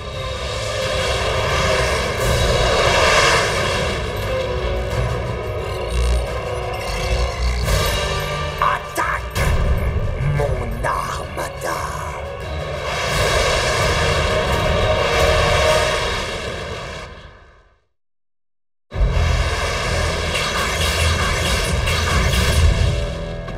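Decepticon jets take off in a Transformers cartoon with a loud, sustained engine roar that cuts out briefly and then returns at full strength.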